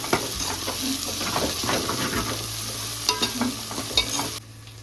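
Ginger garlic paste with mint and coriander leaves sizzling and frying in oil in a village kitchen pan, with a spoon stirring and scraping against the pot in irregular strokes over a steady close crackle, stopping abruptly near the end.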